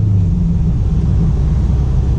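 Steady low, deep rumble of a 2019 Subaru STI idling through a Remark axle-back exhaust, continuous and fairly loud with no other sounds.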